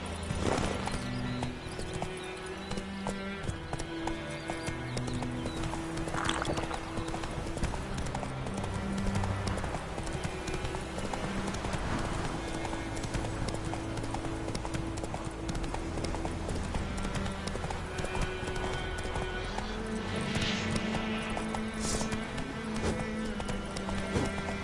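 Hooves of the horse Roach pound in a steady galloping clip-clop in The Witcher 3, running continuously under a dense bed of game music, with an occasional whinny.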